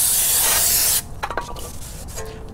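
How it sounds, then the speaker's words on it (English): Brake cleaner sprayed onto a front brake rotor during a Lexus GX470 brake upgrade: a loud, steady aerosol hiss for about a second, then stops, followed by faint handling clatter. "Just take some more brake cleaner and clean it off."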